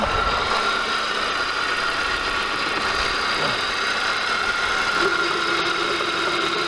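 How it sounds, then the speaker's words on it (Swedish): An Audi car engine idles steadily with a gurgling noise from the alternator, a continuous mid-pitched hum recorded close, with no talk over it. "jag är säker på att det är generatorn som låter och inte styrservo och pumpen"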